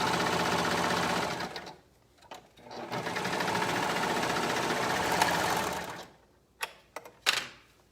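A sewing machine stitches a swimsuit in long, steady runs of fast, even mechanical chatter, close and loud, with a short pause in between and a few sharp clicks at the end.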